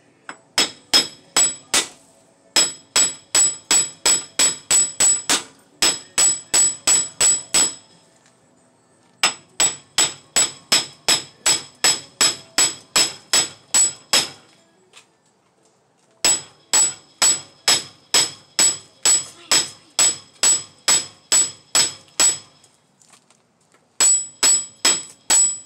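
Close, loud, ringing metal strikes as a hammer taps around a 2008 Impala's wheel bearing hub to drive it out. The blows come in fast, even bursts of about a dozen, separated by brief pauses, with no talking.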